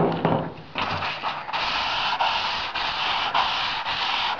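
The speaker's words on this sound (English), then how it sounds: "and then sand over it." Repeated scratchy strokes of wet sandpaper rubbed by hand back and forth, a series of short abrasive passes at a steady rhythm, close and moderately loud.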